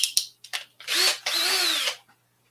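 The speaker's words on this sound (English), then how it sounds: "and drill these 2 holes." A small power drill drills holes for a pinball ramp template, with a few short bursts and then two longer whining runs, close and clear against a quiet background.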